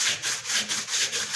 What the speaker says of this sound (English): So we're sanding down the front